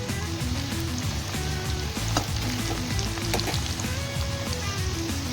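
Ginger garlic paste, red chili and cumin frying with onions for a chicken curry, producing a loud, dense, continuous sizzle with crackling pops close up.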